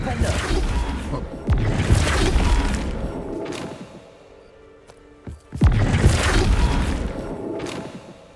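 Confringo blasting spell in Hogwarts Legacy erupting in booming explosions with crashing debris and whooshes, two loud bursts separated by a quieter lull.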